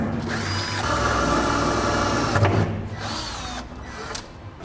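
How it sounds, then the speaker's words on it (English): A power drill bores a small pilot hole through the metal bed of a 2004 Chevrolet Silverado for a fifth wheel hitch safety chain loop. The motor whines steadily at close range, then slows and pauses in brief bursts toward the end. "now we'll drill a small pilot hole through where we marked"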